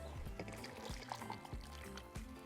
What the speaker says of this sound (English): we're going to pour it on our bowl with our gelatin